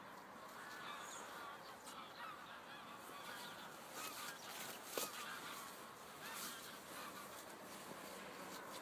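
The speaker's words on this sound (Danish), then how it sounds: "Gæssene øver sig." Geese honk in scattered calls at a farmhouse garden beside raised beds and a dog yard, sounding fairly distant and faint over a steady outdoor background, with a few louder calls standing out.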